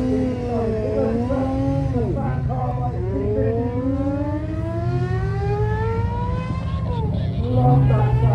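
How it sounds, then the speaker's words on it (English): A Formula 1 car runs on a road at a supercar festival, its high engine whine rising steeply through gear after gear and dropping between shifts, loud and sustained over crowd noise and nearby talk. "It's a Formula 1 car on the road."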